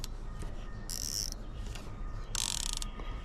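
Drag knob on a fishing reel being cranked, giving two bursts of fast bright ratchet clicking with a steady mechanical whir between them, close up and with no speech.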